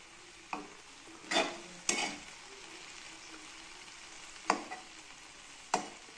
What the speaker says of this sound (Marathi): अशी परतत राहायची सारखी। आणि आता थोडा मोठा गॅस करायचा आणि चांगली परतून घ्यायची